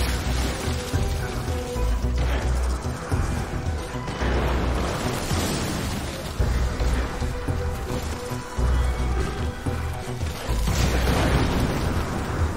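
Explosive barrels blowing up in the game Soulstone Survivors, a busy stream of repeated booms and crashes layered over constant crackling combat effects, loud and continuous throughout.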